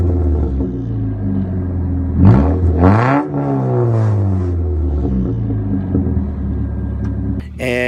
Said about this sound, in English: right now it's got an aftermarket muffler underneath of it, which makes it a lot louder